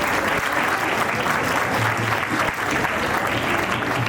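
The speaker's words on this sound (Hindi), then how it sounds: "जोरदार तालियों के साथ पहली बार शालोम अपनी पत्नी को देख रहा है" Wedding guests at a Christian ceremony applaud loudly and steadily, a dense sustained clapping from the whole crowd filling the room without a break.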